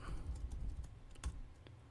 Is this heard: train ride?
no